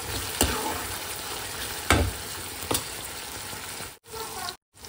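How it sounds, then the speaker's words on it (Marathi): Tomatoes and onions sautéing for brinjal bharta, a steady sizzle in the pan broken by three sharp stirring scrapes, then a brief drop to silence near the end. "टोमॅटोला पण छान असं परतून घेऊया सॉफ्ट होईपर्यंत।"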